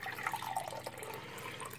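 Purple Kool-Aid drink being poured, a short burbling, splashing trickle of liquid heard up close and fairly quiet for about two seconds, with no talking.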